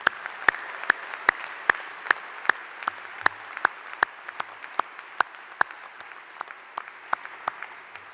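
Sparse applause at a university commencement ceremony, with distinct individual claps in an uneven rhythm, a small group clapping fairly close by with no voices.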